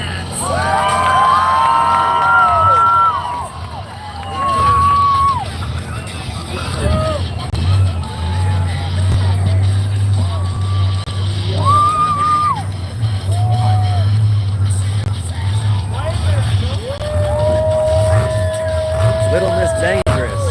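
A crowd at a monster truck show cheers and whoops loudly, with children shouting among the noise, while an announcer's amplified voice carries over the din throughout.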